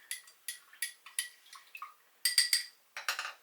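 A spoon stirs a flour slurry in a bowl for a stock-based beer gravy, giving a run of quick, close scraping clinks in short bursts, fairly quiet and with no talking.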